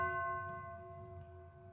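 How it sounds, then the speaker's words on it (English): A faint church bell in a tabletop game scene, a single soft struck tone with a steady ringing hum that slowly decays, distant and alone. "you hear a really faint church bell go"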